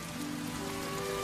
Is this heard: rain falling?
yes